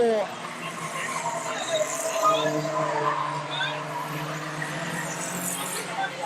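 Stock cars race around a track, engines droning steadily with occasional tire squeal and revving swells, heard under continuous commentary and crowd noise.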